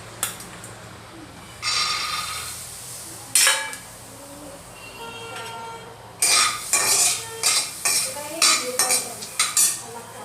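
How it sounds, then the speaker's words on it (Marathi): Peanuts dry-roasted and stirred in a hot iron kadhai, sharp metallic scrapes and clinks of a spatula in separated strokes, speeding into a quick rhythmic series of scrapes toward the end, close and clear. "शेंगदाणे भाजून घेऊया"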